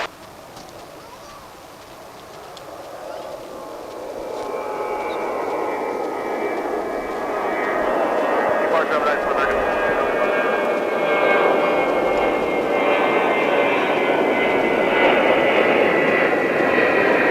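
Jet airliners at DFW International Airport, a broad roaring engine rumble swelling from moderate to loud and holding steady as a plane passes nearby, with no talk.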